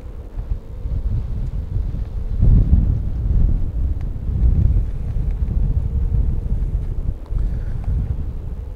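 Wind buffets the microphone at an open flying field where a quadcopter is being flown, a steady low rumble with gusts swelling louder around the middle and easing slightly toward the end.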